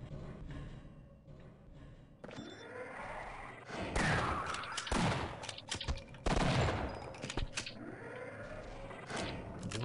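A burst of loud double-shot gunfire in Half-Life, several sharp shots cracking out over a steady low rumble, with heavy booming reports toward the end.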